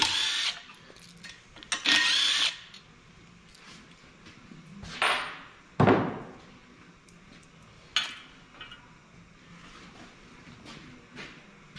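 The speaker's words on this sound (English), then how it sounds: "I usually don't take it on and off to drill it" Short bursts of a power drill whirring while building a P-pump for a 6.7 Cummins engine, several separate runs with pauses and clunks between them, close and fairly loud.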